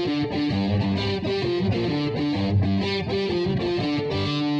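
A heavily distorted electric guitar plays a chugging, rhythmic riff, loud and upfront with no other sounds.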